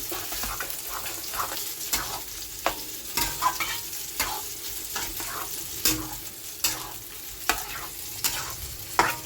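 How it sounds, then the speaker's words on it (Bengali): Soybean curry with yogurt and turmeric sautés in a pan, a constant sizzle punctuated by regular, sharp scraping stirs of a spatula, close and clear with no talk. "এই যে সয়াবিনের তরকারিটা তো কষাচ্ছি"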